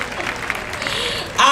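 An audience at a school valedictory service breaks into applause, a steady wash of many hands clapping, fairly loud and close, with a voice briefly audible near the end.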